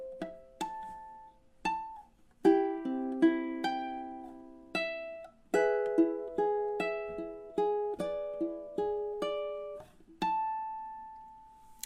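Ukulele played fingerstyle through measures of House of the Rising Sun, clean plucked notes and chord strikes in a slow arpeggiated rhythm, each ringing and decaying, ending on a sustained note.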